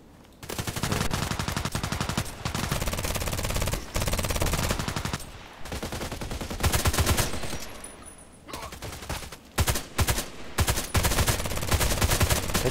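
Sustained automatic fire from an HK417 rifle in a shooter game, long rapid bursts of cracking shots separated by brief pauses, loud and close with no talking.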